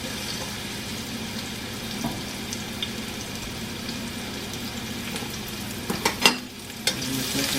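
Onions fry in olive oil in a wok over moderate heat, a soft continuous sizzle with occasional stirring knocks and a sharper clatter near the end.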